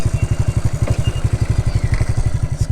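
An engine chugs steadily at idle on a slippery mountain route near the Myanmar border, a loud, close, regular pulsing beat like a single-cylinder motorcycle, with faint background sounds.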